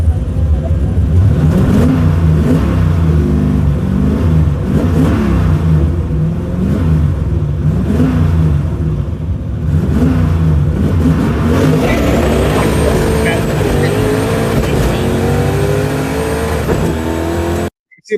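Stick-shift drag race car with a 351 Windsor engine accelerating hard down the strip, a loud sustained engine roar that climbs in pitch and drops back several times as the gears change.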